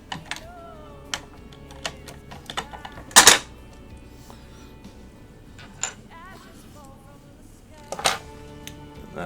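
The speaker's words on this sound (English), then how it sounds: "That sound was the existing plate" During a PC build, the existing case plate is removed: sparse close-up clicks and taps, with a short sharp metallic clatter early on and another burst later against quiet room tone.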